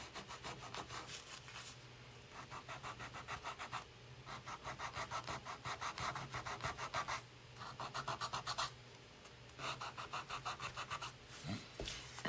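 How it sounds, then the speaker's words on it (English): Rhythmic back-and-forth scraping of a small sanding stick on wood, quick strokes in bursts with brief pauses between, close and clear. "just see how much easier it is using this little sanding stick"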